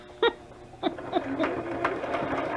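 A sewing machine stitches in short uneven bursts, starting with a few distinct clicks and thuds and then running into a quieter, steady mechanical whir.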